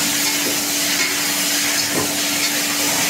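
Gima shak greens sizzle steadily in a pan while a utensil stirs them in a few soft scraping strokes, with a continuous close frying hiss and no talking.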